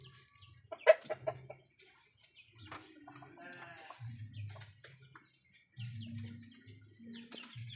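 Chickens recovering from a snoring respiratory ailment cluck and call at close range, with scattered soft clucks and one sharp, louder call early on, sometimes overlapping.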